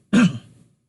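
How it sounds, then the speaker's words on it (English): One brief, loud throat clearing, close up, then quiet. "you can clear your throat along with me"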